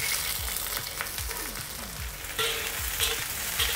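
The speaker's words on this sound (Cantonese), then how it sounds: "落啲油，" Oil heating in a hot wok over medium-high flame before stir-frying chive flowers with beef, giving a steady close sizzle with a few light scrapes and knocks, no talk.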